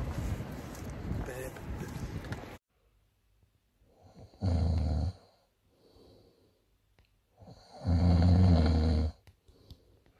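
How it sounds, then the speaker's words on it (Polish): A person snoring nearby in two loud, drawn-out breaths separated by quieter breathing, with faint background noise; a short burst of other sound opens the scene. "Przed chwilą chrapałeś."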